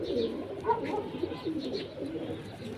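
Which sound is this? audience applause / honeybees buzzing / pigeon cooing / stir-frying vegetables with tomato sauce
pigeon cooing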